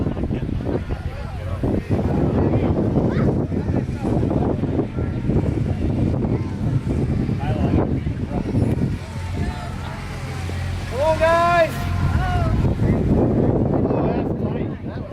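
Wind gusting outdoors at a family event, a steady low roar and microphone buffeting that runs throughout, with bursts of people's voices and chatter over it.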